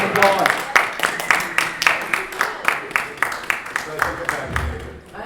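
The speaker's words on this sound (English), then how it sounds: "Round of applause." A convention audience gives a round of applause for guests, with steady rhythmic clapping heard fairly close and a voice talking over it.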